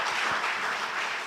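A brief burst of congregation applause at an online Sunday church service, a dense patter of clapping lasting about a second.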